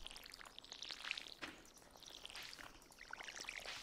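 Crops are watered in the Stardew Valley video game, with faint, soft pouring and splashing bursts of water repeating over a few seconds, quiet and alone.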